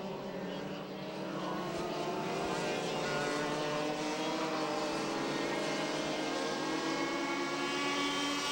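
A TaG racing kart engine screams at high revs on a race track, a loud, steady rising drone with sharp harmonic whine held without a break.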